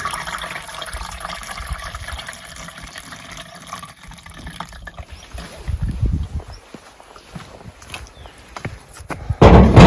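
Trichoderma solution with magnesium sulfate and salicylic acid is poured for spraying peach trees, with an uneven splashing pour that grows louder toward the end and no voices.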